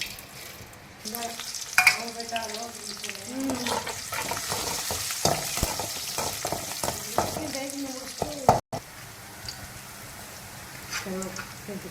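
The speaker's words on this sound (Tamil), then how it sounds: "தாளிக்க போகிறோம் அதுக்கு எண்ணெய் ஊற்றிருக்கோம் கடுகு" Mustard seeds sizzle and crackle in hot oil with light stirring, while a person talks over the popping and frying.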